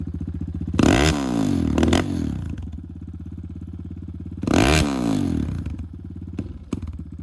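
A Kayo T2 Chinese enduro motorcycle with about 8,000 km on it and a carburetor needing adjustment runs loudly at close range. It idles with a throbbing beat and is revved sharply twice.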